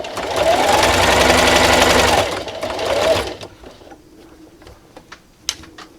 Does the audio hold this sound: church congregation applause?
no